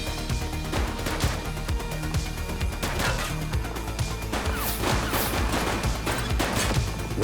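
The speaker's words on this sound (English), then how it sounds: "She's shooting!" Rapid gunfire in The Precinct video game: bursts of shots crack out in quick clusters over a loud, busy mix of game effects, with no clear talking.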